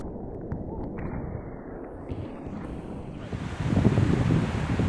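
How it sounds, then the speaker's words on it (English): Knee-high ocean waves break on a surf beach, a steady wash of surf with wind noise that swells into a louder crash near the end, with no voices. "These waves are knee-high, and look at the trouble they give us."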